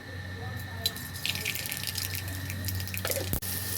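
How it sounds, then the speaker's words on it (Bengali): Black mustard seeds dropped into hot oil give a steady, close sizzle with scattered pops, and a sharp crackle near the end. "তেলটা আমার গরম হয়ে গেছে, এবার এর মধ্যে দিয়ে দেবো কালো সর্ষে"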